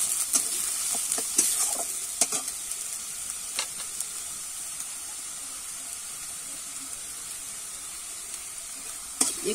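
Soybean and fish-head masala stirred in a frying pan, a steady soft sizzle with scattered scraping clicks of the spoon against the pan, fairly quiet and close, with no voices.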